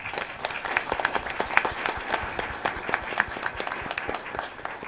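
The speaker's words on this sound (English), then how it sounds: "So give them a round of applause." A round of applause at a city school board meeting honoring FFA members: clear, crisp clapping from a modest audience, evenly sustained for several seconds in an indoor room.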